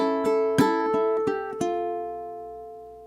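A ukulele plays one bar of a flamenco song, a quick run of bright plucked and strummed notes with rhythmic accents, then a single chord left ringing and fading out, with no talking.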